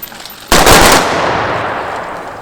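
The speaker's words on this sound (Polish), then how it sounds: "Salwą!" A ceremonial rifle volley salute at a memorial commemoration rings out as one sharp, loud simultaneous crack of many rifles, followed by a long echoing rumble that slowly fades outdoors.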